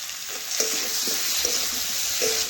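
Ridge gourd sautéing in a pan with already-fried potatoes and spices: a continuous close sizzle with a few soft stirring scrapes and faint tones in the background.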